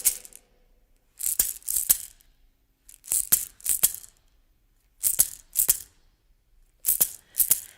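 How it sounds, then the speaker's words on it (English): Hand claps along to a song at a festival, in short bursts of two or three sharp, close slaps, repeated in a steady pattern with brief pauses between groups. "And clapping along can sound like this."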